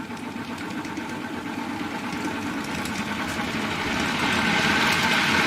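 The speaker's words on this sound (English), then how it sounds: "The idea that we could make a brushless DC motor from two simple components" A homemade brushless DC motor driven by a two-component blocking oscillator circuit, with one coil as the drive, runs steadily with a close, continuous buzzing hum that grows slightly louder toward the end.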